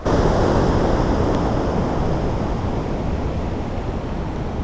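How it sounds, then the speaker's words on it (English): Ocean waves breaking along the Santa Cruz shore make a loud, steady wash of surf that roars on without pause, with no voices. "taking photos of the waves, literally of the water"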